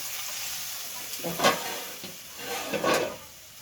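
A little water goes into a pan of potato and besan fulori curry, sending up two surging bursts of hissing steam over a steady low simmering sizzle.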